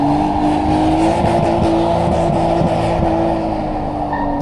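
A drift car lapping a race track, its engine holding a loud, steady high-revving note with rhythmic pulsing bursts and faint tire noise, heard fairly close and without talk.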